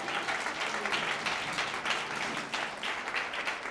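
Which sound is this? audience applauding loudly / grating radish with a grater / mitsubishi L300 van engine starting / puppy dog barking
audience applauding loudly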